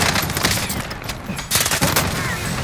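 Rapid gunfire from a Modern Warfare match on Rebirth Island, dense bursts of automatic shots that stay loud throughout, with a sharp surge of firing partway through.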